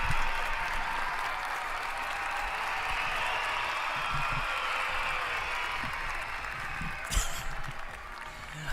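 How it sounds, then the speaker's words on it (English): A canned crowd-cheer sound effect called Teens Cheer plays on a sim-racing live stream, a sustained wash of cheering and applause at steady loudness, with a brief sharp burst near the end. "It's called Teens Cheer. That's the name of that sound effect."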